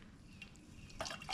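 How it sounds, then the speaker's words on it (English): Hot water slowly poured over ground coffee in a filter at a spring campsite, a faint soft trickle with a couple of brief splashy bursts against quiet outdoor background. "I'm just going to slowly pour it over top of this and let it"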